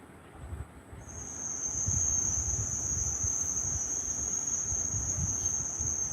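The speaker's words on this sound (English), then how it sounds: "Cicadas, frogs, and many migratory birds, especially post-monsoon." A steady, high-pitched insect drone, the chirring of cicadas in the countryside near Manipal, rises in after a second and holds continuously over faint low background rumble.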